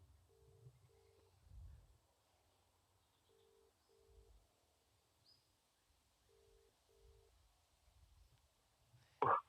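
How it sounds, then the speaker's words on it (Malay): Phone call being dialed: short paired keypad tones beep out in three quick clusters over a quiet background, then a sharp clicking burst at the end. "kita coba telefon dia"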